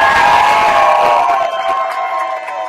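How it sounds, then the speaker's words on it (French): Crowd at a Tour de l'Avenir cycling stage finish in La Gacilly applauding and cheering the day's most combative rider on the podium, a loud burst of cheers and whoops that fades toward the end. "Allez, plus fort les applaudissements."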